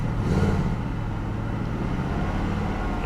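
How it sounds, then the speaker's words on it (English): Idling car engine with a solid misfire and a flashing check engine light, blipped with a little throttle: a rough, uneven rumble with slight surging, loud and close, and no talk. "Let's give it a little gas, see if it clears up."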